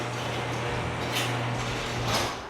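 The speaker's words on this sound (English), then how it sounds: "I'll shut the garage door, hang on." A mechanical rumble and rattle of a garage door running closed, over a steady low hum, with a couple of louder scraping surges.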